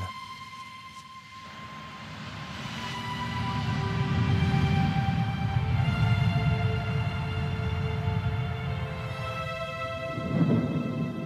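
Deep rolling thunder and rain rumble underneath sustained musical tones, the storm swelling in the middle before easing.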